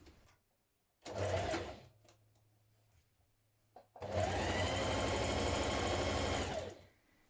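A sewing machine stitches the central back seam of a shirt in two runs: a short burst of about a second, a pause, then a longer, steady, loud run of about three seconds, close by with no talk.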